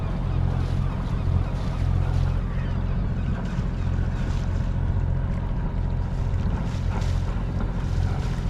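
Sailing yacht running under its engine on passage to the Isles of Scilly, a steady low motor drone with water and wind noise throughout, fairly close and constant, with no voices.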